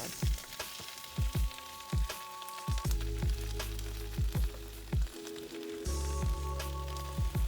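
Spinach and butter sizzle in a wok with a steady frying hiss and repeated soft thumps and clunks of stirring, close and alone.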